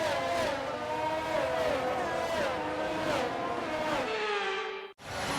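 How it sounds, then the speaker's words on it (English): F1 cars on the formation lap at Monza in the F1 23 game, engines whining and rising through the gears in repeated revving sweeps, loud and close before a sudden brief cut. "The formation lap gets underway here at this historic track in Italy."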